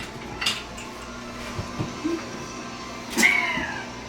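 A metal baking dish clanks against the oven rack as it slides in, a couple of brief hard knocks in a quiet kitchen.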